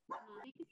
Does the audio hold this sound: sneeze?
no